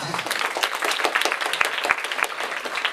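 Audience applause at a media forum panel in Lviv, a brief, dense burst of many hands clapping close and steady throughout, with a few sharper claps standing out.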